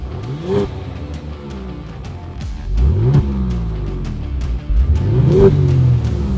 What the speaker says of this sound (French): je parle d'un mode Sport Plus qui ouvre les valves dans le système d'échappement